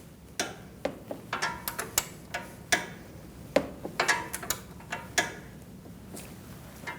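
Torque wrench ratcheting on a bolt during front wheel bearing replacement on a 2008-2014 Mercedes-Benz C300: sharp, close metallic clicks in irregular bursts, some quick runs and some lone ticks, with no talking.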